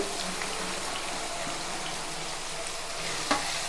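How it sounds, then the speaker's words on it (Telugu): Onion pieces fry in a pan for an egg and black pepper curry, giving a steady close sizzle with a faint stirring scrape near the end and no talking. "ఈ ఉల్లిపాయ ముక్కలు కూడా దోరగా వేగాలన్నమాట."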